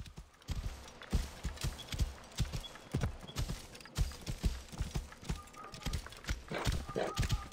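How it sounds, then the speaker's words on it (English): Horse hooves clip-clop steadily in Assassin's Creed Origins, a close rhythmic trot running throughout with game characters talking over it. "wait up for me. My horse is slow."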